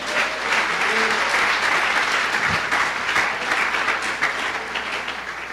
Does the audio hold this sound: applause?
yes